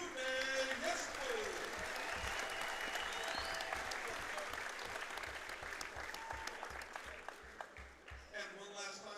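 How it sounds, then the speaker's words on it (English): Applause at a high school basketball game honoring a graduating senior, a sustained round of clapping from the crowd in a gym that gradually thins out toward the end. "please give a nice round of applause to number 24, Tunde Yespu."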